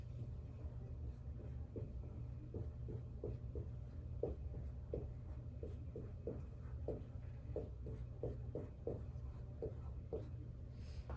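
Pen scratching across paper while a line is drawn under handwritten multiplication work, soft repeated strokes over a steady low hum, close and fairly quiet, no voices.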